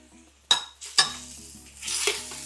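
A utensil scrapes and clinks against a pan three times while stirring chicken seasoned with pepper, yellow powder and chicken powder for chicken penne. The sharp strokes are close by, and a soft sizzle runs underneath.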